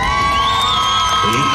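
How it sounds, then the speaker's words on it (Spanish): Loud, steady cheering and shrill whoops rise from an audience at a 2023 contest in Ponciano Arriaga, backing the second female contestant in one short, unbroken burst of crowd noise. "El aplauso a la participante número 2."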